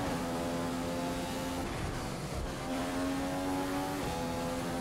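A Formula 1 car engine in the racing game F1 2015 screams at high pitch through a lap, with the revs dropping at gear shifts and climbing again, loud and steady with no talking.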